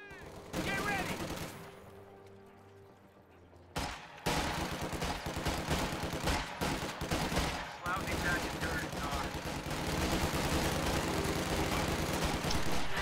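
MG42 machine gun bursts and rifle fire crackle continuously in a World War II strategy game battle, with dense overlapping shots that thin briefly before resuming at full intensity while a voice talks.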